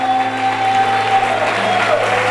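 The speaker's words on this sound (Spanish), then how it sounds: "Vamos, dele el aplauso con gozo al Señor," Church congregation applauding during a worship service, a steady broad wash of clapping that fills the whole moment with a constant tone humming underneath, no speech.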